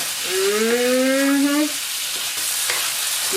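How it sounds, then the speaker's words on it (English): Onions and garlic sauté in a pan for sweet and spicy king prawns, giving a steady close sizzle with a brief thin whine near the start and no voices. "all those onions and garlic, let that saute down"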